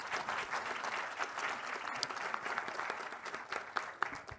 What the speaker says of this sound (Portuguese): E eu quero então pedir que nós possamos dar uma salva de palmas aos nossos convidados.